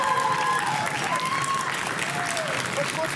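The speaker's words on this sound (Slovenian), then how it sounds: "Dajmo en aplavz!" School pupils at a quiz game show applaud together, a brief burst of crowd clapping with cheering voices mixed in.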